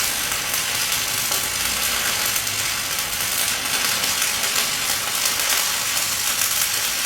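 Arc welding with 7014 rods, with slag running ahead of the weld pool: a loud, dense crackling buzz that holds steady and close throughout, with no speech.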